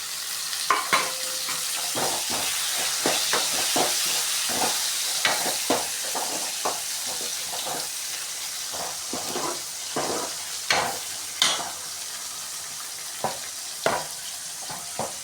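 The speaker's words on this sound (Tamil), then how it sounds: "இப்போ வந்து தக்காளி போட்டு வதக்கிக்கலாம்." Tomatoes sautéed with okra in a pan, a steady close sizzle and hiss of frying with repeated sharp scrapes and clicks of stirring throughout.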